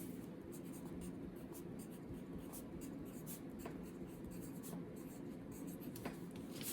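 Pen scratching steadily across a separate sheet of paper while working a binary subtraction problem, a continuous close scribbling texture with short strokes and taps, alone with no talking.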